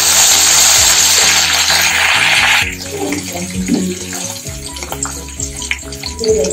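Mustard seeds, one or two dried red chillies and curry leaves hit hot oil for a tomato-coriander chutney tempering, giving a loud, hissing sizzle. After a couple of seconds it drops to softer crackles, light pops and utensil clinks.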